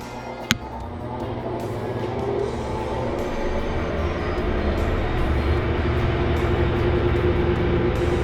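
A Whirlpool WTW4800XQ4 washing machine spins up in its spin cycle after a single sharp click, with a rising steady whir and rumble that grows slightly louder.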